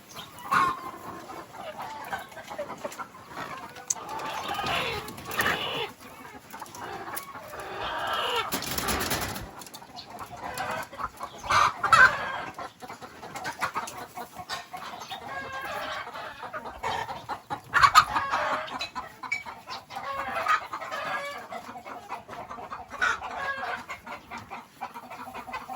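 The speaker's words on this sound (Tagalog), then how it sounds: "Yan yung mga manok." Chickens cluck repeatedly at a rural project site in Subic, with scattered, intermittent calls at moderate distance and a faint crow mixed in over a steady outdoor background.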